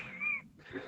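A cat meows once, a close, wavering cry indoors, followed by a brief pause and faint room noise.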